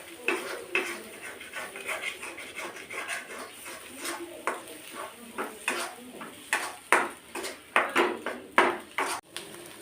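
Beaten duck eggs are stirred in a pan with a utensil, giving a run of close, uneven scraping and clinking strokes that grow louder and quicker toward the end.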